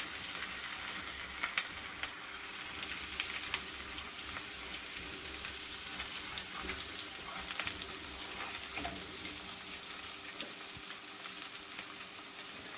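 Mustard and other seeds fry in hot oil over high flame for a Kerala-style sardine curry, giving a steady, dense sizzle with scattered small pops and crackles throughout, close and continuous, with no talking.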